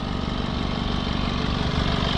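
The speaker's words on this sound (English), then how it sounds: "Now the last section of this I'm going to do with the engine running." A Honda CR-V diesel with a blocked DPF idles steadily nearby, a continuous low engine hum and vibration with no breaks.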